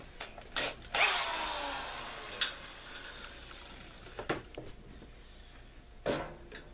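A power drill drives 2.5-inch screws into a twin-size wooden headboard, with several short bursts of whirring and clicks spaced across a few seconds, close by and no talk.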